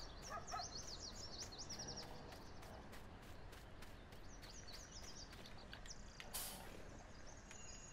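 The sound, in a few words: chickens clucking in Farming Simulator 19 video game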